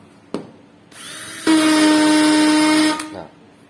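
A Makita HP333 hammer drill with a worn internal mode-selector gear runs in plain drill mode, a steady loud whine holding for about a second and a half after a brief click and lower motor hum, then stopping.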